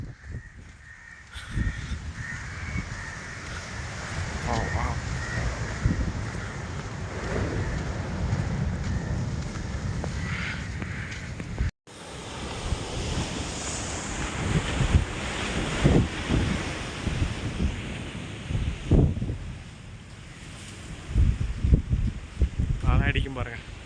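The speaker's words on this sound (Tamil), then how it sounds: "இந்த கோயிலேருந்து பாருங்கள், கோயிலுக்கு காம்பவுண்டுக்கு பின்னாடியே கடல்." Sea waves roll and wash in right behind the compound of the Kattil Mekkathil Devi temple on the coast at Kollam, Kerala, a steady roar mixed with strong wind buffeting the microphone, crows cawing and a person talking.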